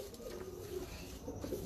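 A female pigeon coos in low murmuring notes, moderately close, against a steady, fairly loud background hiss.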